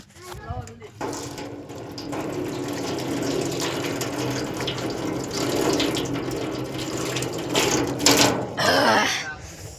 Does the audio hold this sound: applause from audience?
no